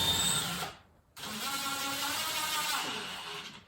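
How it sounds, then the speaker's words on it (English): A power drill drives screws into wood while a storage unit is assembled: a close, loud whirring burst, a brief pause, then a longer steady drilling run, with no talk. "Pre-drill 3 holes on each side, screw in the screws."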